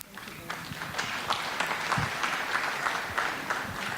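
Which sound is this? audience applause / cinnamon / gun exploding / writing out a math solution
audience applause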